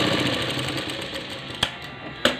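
A sewing machine runs steadily, stitching a double seam along a half-inch tuck on a blouse, its continuous mechanical whir filling the clip with two sharp clicks near the end and no talking.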